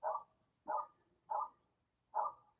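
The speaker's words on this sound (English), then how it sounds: "there were 4 dogs outside barking" Dogs bark outside: four separate sharp woofs at an even, unhurried pace, heard at a moderate distance with quiet gaps between them.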